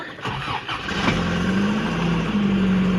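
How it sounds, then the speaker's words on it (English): A Toyota 4x4 pickup truck engine cranks briefly, catches, and settles into a steady, rough cold idle, close and fairly loud with no talking. "And it just starts right up. That's cold idle."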